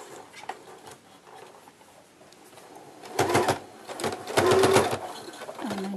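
A sewing machine stitches a seam on a kachera in two short close bursts of rapid rattling, after quieter handling noises at the start.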